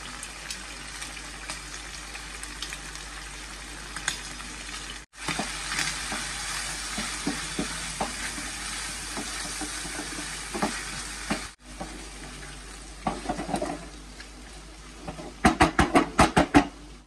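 Shrimp coated in Korean hot pepper paste and crab paste sizzles steadily in a pan, with two brief breaks in the frying hiss and a quick run of sharp utensil clicks near the end.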